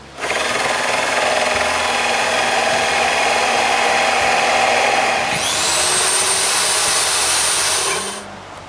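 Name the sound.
hole saw cutting through a wooden door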